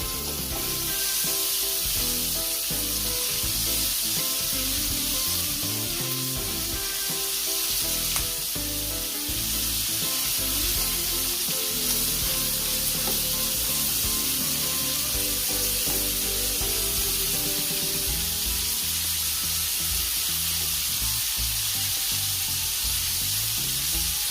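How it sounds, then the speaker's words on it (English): Shrimp fry in a pan with a loud, continuous close sizzle and crackle, accompanied by occasional light stirring and shifting sounds throughout. "I'm just gonna flip these over to allow the other side to cook"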